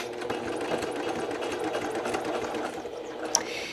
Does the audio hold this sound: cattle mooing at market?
no